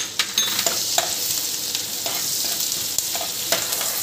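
Ginger, garlic and chili hit melted butter and oil for pav bhaji, giving a loud, steady sizzle with scraping stirring strokes scattered throughout, close up and with no talking.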